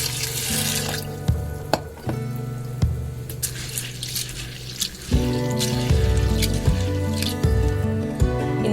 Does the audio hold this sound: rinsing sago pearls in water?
yes